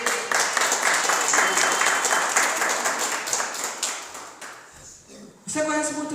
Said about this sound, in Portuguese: Dê uma linda salva de palmas ao Senhor Jesus.